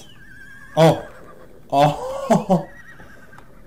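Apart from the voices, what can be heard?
called horse neighing in the video game The Last Frontier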